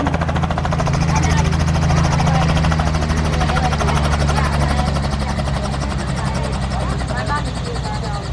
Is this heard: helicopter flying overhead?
yes